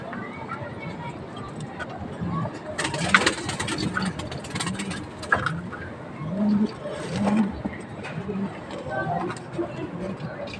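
Young pigeons, cock and hen, coo softly in a loft amid rustling and faint engine noise, with someone talking over them throughout.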